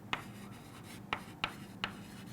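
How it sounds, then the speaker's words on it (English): A pen writes notes by hand in a quiet room, a few brief scratchy strokes spaced apart under a low steady background hum. "I am writing this below, that means to decrease bulk"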